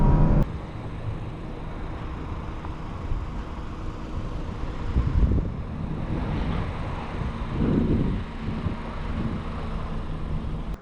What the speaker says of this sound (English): Today we're driving a 2002 Honda Accord SE.